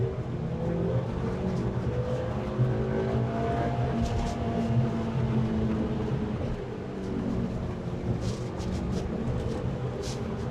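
A Mazda MX-5 engine pulls hard in second gear on the road, a steady rising drone heard from inside the car, loud and continuous with wind and road noise and no talking.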